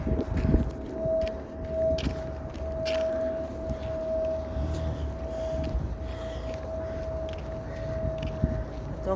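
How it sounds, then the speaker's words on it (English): A civil defense tornado siren sounds during a test in Waukesha County, holding a steady, sustained tone from a distance over outdoor background rumble, with faint footsteps and scuffing nearby. "I hear another siren."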